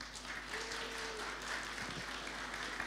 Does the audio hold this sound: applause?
yes